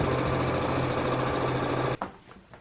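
A sewing machine runs steadily at speed, stitching a gown sleeve with a close, even mechanical whir, then stops abruptly near the end, leaving faint handling noise.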